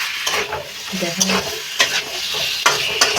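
Spiced meat is stir-fried in a pan, with a sizzling base broken by repeated scraping stir strokes that come in irregular bursts, close and fairly loud.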